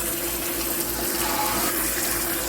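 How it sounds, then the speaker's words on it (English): Tap water runs steadily over cottage cheese curds in a sink as they are rinsed, a constant close rushing splash with no talking. "Just rinse it until it runs clear and you get all the whey out"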